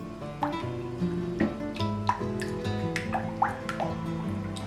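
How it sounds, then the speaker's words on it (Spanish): Very hot water poured in a small splash into honey in a bowl while preparing a syrup coating for homemade pestiños, a series of close drips and liquid glugs over a tonal background of music. "añadimos un chorrito de agua muy caliente, unos 20 ml"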